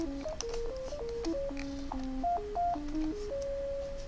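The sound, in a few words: synthesized robot tones sound effect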